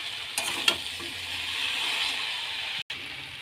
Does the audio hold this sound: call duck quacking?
no